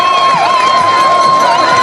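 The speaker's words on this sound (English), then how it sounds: "delighted that Switzerland's second team getting such a cheer as expected at home" A home crowd cheering loudly for Switzerland's second team at a mixed cross-country ski relay in Goms, a continuous roar with a sustained whistle or horn tone running through it.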